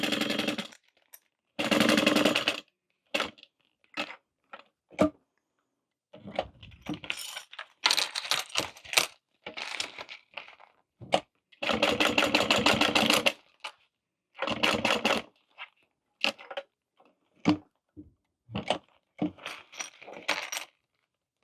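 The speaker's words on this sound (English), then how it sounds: "And then I'm gonna start stitching down the side." A sewing machine stitching and top stitching a waist pack, running in repeated bursts of rapid mechanical chatter separated by short pauses.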